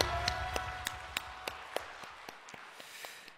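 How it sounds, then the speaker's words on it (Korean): A church congregation applauds, with a series of distinct, fairly even claps ringing in a reverberant hall, faint overall and fading gradually; no voices. "우리 하나님께 영광의 박수를 올려드리겠습니다"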